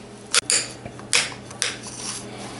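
A knife cuts cold butter into small pieces on a board, giving a few separate soft scraping strokes with brief clicks against the surface, close and fairly quiet, with no talking.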